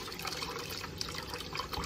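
Basmati rice being rinsed in water for a lentil-rice-vegetable soup, faint splashing and trickling with close liquid swirls.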